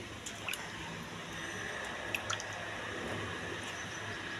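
Grapes being washed by hand in a bowl of water, soft squishing and light dripping with occasional small splashes, faint and close.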